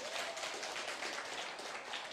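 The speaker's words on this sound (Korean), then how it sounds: "맞다고 생각하시는 분만 박수로 시작할게요" Seminar audience applauding at a gold income seminar, a dense wash of many hands clapping steadily for about two seconds, moderately loud with no talk over it.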